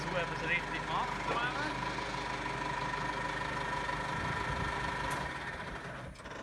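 Tractor engine idling at a Swiss agricultural skills training, a steady mid-pitched chugging rumble with faint vibration, with talk over it before the level eases slightly at the end.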